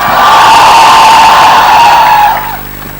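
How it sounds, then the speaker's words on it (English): A large, enthusiastic crowd at the Jaipur Literature Festival front lawn cheering and shouting loudly and steadily, then fading away at the end. "I have never seen this enthusiastic a crowd at the Jaipur Lit Fest"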